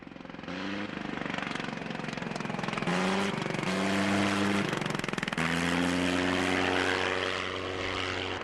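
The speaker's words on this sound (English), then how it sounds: "to hear this engine running wide open, and then it cuts off. And then it comes back on." A vintage rotary aircraft engine roars at full throttle, cuts out abruptly, then returns, with a loud, rattling propeller drone broken into bursts by intermittent switching as during a landing approach.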